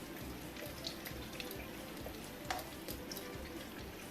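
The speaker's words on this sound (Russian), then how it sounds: "Вот так оно жарится." Pancakes frying in soybean oil in a pan, a steady close sizzle with small irregular pops and crackles throughout, no voices.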